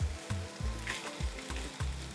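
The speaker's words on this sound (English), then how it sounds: "yeah, the onions is already frying," A steady sizzle of onions frying in a pan for jollof rice, with regular low thumps recurring about every third of a second beneath the hiss.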